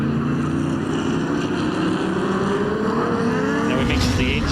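A Formula 5000 race car with a Chevrolet 302 V8, cast iron block and aluminium heads, drones loudly on a New Zealand circuit, its engine note climbing steadily in pitch under buffeting wind noise.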